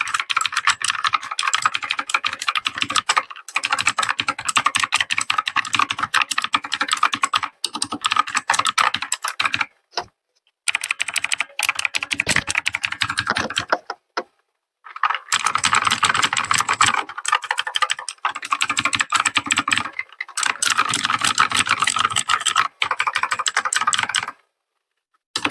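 A new mechanical keyboard typed on rapidly up close, with dense, loud clacking keystrokes that run in long bursts separated by a few short pauses.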